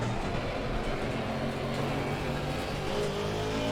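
A GT race car in Assetto Corsa Competizione held at full throttle, its engine droning steadily and loud with a rising, continuous roar and no pauses.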